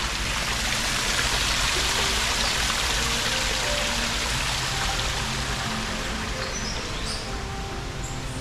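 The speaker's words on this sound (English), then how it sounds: "And this beautiful little creek." A small creek at a Key West butterfly and nature conservatory flows steadily, a constant close broadband rush and trickle with no pauses and no voices.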